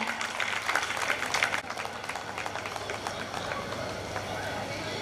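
Audience applause at a school annual function, a dense wash of clapping that swells loud for the first second and a half, then carries on steadily and a bit softer to the end.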